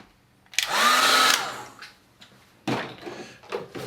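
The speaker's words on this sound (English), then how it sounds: "what I'm going to do is dry this with a hairdryer" A hairdryer switches on briefly to dry wet watercolour paint, a loud close whirring blast lasting under a second before cutting off, followed by faint handling knocks and rustles.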